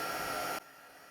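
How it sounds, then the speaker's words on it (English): A heat tool set to level 2 blows a steady, loud hot-air whoosh over a stamped card sentiment while heat embossing, then cuts off abruptly halfway through, leaving a faint hum. "just heat emboss my sentiment"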